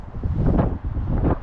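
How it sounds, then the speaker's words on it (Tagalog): Gusty wind buffets the microphone in an empty park in Canada at -3°C, a low rumbling roar that swells and dips over a second and a half, loud and close. "Mahangin."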